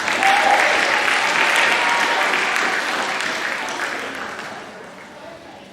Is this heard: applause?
yes